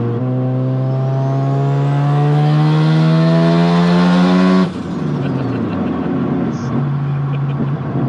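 Turbocharged Mazda RX-7 rotary engine accelerating hard on a public street, a loud, close, rising rev that climbs steadily for several seconds, then cuts off sharply into a lower, rougher engine note.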